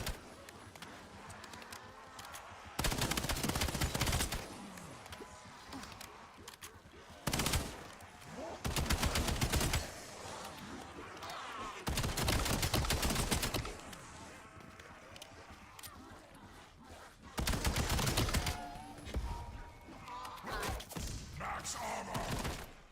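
Gunfire from the Coda cursed weapon in Call of Duty: Black Ops zombies, loud sustained automatic bursts in several separate stretches with quieter gaps of movement and a talking voice between them.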